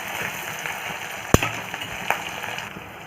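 Spring onion dropped into a pan of garlic and chillies frying in oil, giving a constant close sizzle with one sharp clatter as the onion lands and a smaller knock a moment later.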